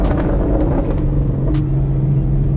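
A 2021 Ford Mustang Mach 1 engine rumbles loudly from inside the car while downshifting, a deep throbbing drone that shifts pitch partway through, with faint clicks over it.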